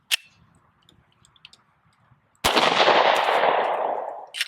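Glock 43x pistol being fired, a sharp single crack after a quiet stretch of faint clicks, followed by a long bright ringing rush, then another snap at the end.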